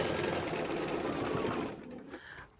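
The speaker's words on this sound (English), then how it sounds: "When I go over thick seams like that, I actually go over it a little bit slower just to make sure that my needle doesn't break." A sewing machine runs steadily and loudly while stitching slowly over a thick, bulky seam, then stops abruptly, leaving a few soft handling sounds.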